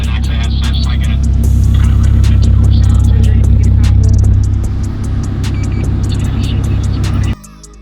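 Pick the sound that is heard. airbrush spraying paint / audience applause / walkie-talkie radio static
walkie-talkie radio static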